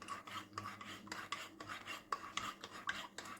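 A spoon stirring tin milk into Jaffna-style tea, quick repeated clinks and scrapes against a cup or pot in a steady rhythm, close and fairly soft.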